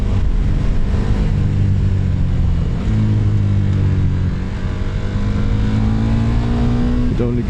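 A KTM Superduke motorcycle accelerates hard in first gear, its loud engine drone climbing steadily in pitch with a brief dip mid-run, as a voice talks over the engine.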